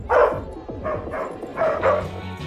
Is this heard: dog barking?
yes